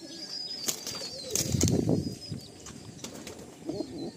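Pigeons released from a loft burst into flight, a loud flurry of flapping wings peaking midway among cooing and faint chirps, with scattered wingbeats continuing after.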